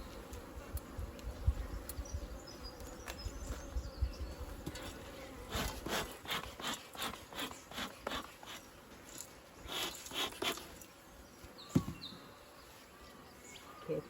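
Honey bees buzzing around an opened hive during an end-of-year hive check, a faint steady drone with bursts of closer wingbeats passing by, alone and without talk.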